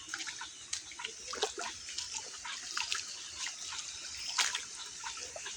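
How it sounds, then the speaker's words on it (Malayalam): Water flows through a paddy field in shallow channels, a close, steady trickle with scattered splashy drips and gurgles over a soft background wash. "വെള്ളമൊഴുക്കുണ്ട്."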